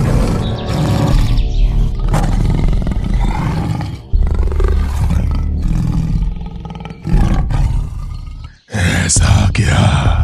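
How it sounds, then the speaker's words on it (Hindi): A cartoon tiger emerges roaring from a cave, a loud, sustained, growling roar that fills the scene in long rough bursts, broken by brief pauses, with voices talking over it. "ठीक तभी गरजते हुए गुफा के अंदर से निकल आई एक बाघ।"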